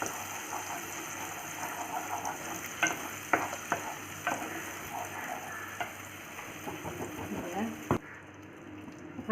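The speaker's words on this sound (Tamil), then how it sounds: "ஆட் பண்ணி இதை நல்லா மிக்ஸ் பண்ணிக்கோங்க" Homemade tomato paste being stirred as it fries in a pan for a no-yeast, no-oven veg pizza, giving a steady sizzle with repeated scraping clicks of the spoon throughout. The sound cuts off abruptly near the end.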